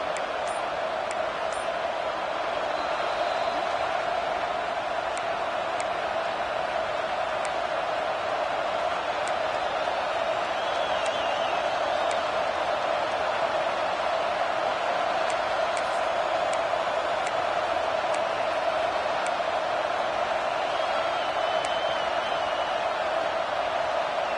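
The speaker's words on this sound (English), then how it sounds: "Oh, this crowd wants it." A college football stadium crowd roars continuously during a third-down play, a dense, sustained wall of noise that holds steady throughout with no clear individual voices.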